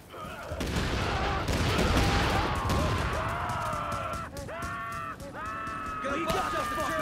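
Rapid bursts of gunfire in Tom Clancy's The Division, heavy rattling volleys with impacts and crashes, while tonal voices speak over the fighting.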